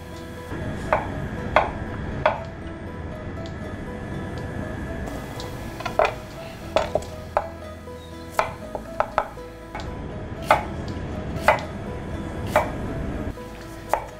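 A knife chops assorted vegetables for a garnish on a cutting board in a kitchen, with sharp, close strikes coming in quick clusters and pauses over a low background clatter.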